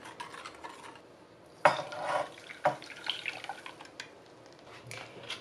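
Stirred mixture of fresh unsweetened milk and flour poured through a strainer into a pot in a home kitchen: soft liquid trickling and dripping with a few sharp clinks of utensils against metal, fairly quiet.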